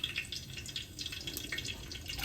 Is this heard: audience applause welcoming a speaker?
no